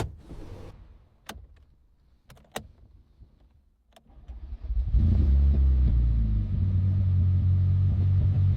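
A restored BMW M3 GTR, Need for Speed Most Wanted style, after a barn-find restoration: a few sharp clicks and a cranking whir, then the engine catches around five seconds in and settles into a loud, deep, steady rumble close by.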